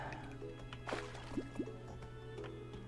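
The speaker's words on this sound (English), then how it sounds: "Is there an easier way to get rid of this water?" Water in the Terraria video game gives a few soft, liquid drips and plops over a steady low background hum, faint and close.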